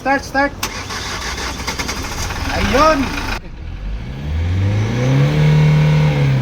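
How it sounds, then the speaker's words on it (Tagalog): A 2014 Hyundai Grand Starex van's D4CB diesel engine, suffering low power and heavy black smoke, cranks and starts, then revs up and holds a rising drone, with voices talking over the first few seconds. "pandarin natin ang makina at mag-observe po tayo"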